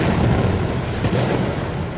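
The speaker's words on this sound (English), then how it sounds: "Under the cover of heavy cannon fire, Santa Anna slowly moved his men closer to" Heavy cannon fire during the siege of the Alamo makes a dense, deep rumbling barrage of booms, loud and continuous with no voices.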